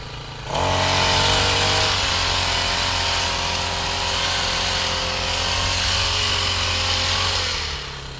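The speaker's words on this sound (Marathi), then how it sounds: "ट्रॉलीवरती पोस्ट्रोक ब्रश कटर आहे." A small four-stroke petrol brush cutter on a trolley starts up and runs at a loud, steady high-pitched whine for several seconds, then eases off, weeding an aubergine plot close by.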